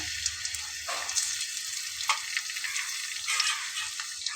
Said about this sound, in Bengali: তাতে আমি এখানে খানিকটা তেল দিয়ে নিলাম এখন এর ভেতরে আমি দিয়ে নেব রসুন থেতো করে নেওয়া